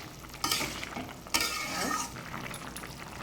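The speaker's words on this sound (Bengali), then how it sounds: "আমার ঝোলটা কত সুন্দর ফুটে গেছে আর প্রায় হয়েও এসেছে" Vegetable curry with lentil fritters simmers and bubbles in a pan as a spoon scrapes and stirs it, two louder stirring strokes standing out over a low sizzle, close and moderately quiet, with a brief spoken word.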